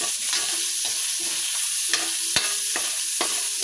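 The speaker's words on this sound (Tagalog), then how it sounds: "Haluin muna natin guys." Chicken frying in oil in a pan is stirred, with scraping strokes recurring roughly every half second over a constant bright sizzle, close by and without speech.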